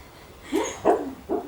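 A sleeping, dreaming dog gives three soft, muffled barks in quick succession, close by and fairly quiet, with no one talking.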